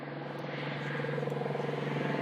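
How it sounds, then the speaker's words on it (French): An Airbus X-Cube hybrid helicopter, with a main rotor and two wing-mounted propellers, flies nearby with a loud, steady engine drone and rhythmic rotor pulsing that swells slightly. "le X-Cube, mi-hélico, mi-avion"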